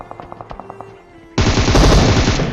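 Gunfire in a mobile shooter game: a quick series of light, evenly spaced clicks, a brief lull, then a loud, dense stream of automatic shots that runs to the end.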